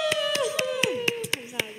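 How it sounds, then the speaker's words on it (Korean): About eight sharp hand claps in a steady rhythm ring out over a sustained voice. "박수"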